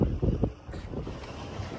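Strong wind gusting outdoors at Saputara hill station, buffeting the microphone with a loud, low rumble that swells and eases over a couple of seconds, with no voices.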